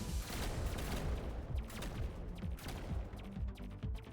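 An Arc Pulse Cannon in the Space Survivors video game fires continuously, making a dense, loud crackling barrage of rapid shots that overlap into a steady roar for several seconds.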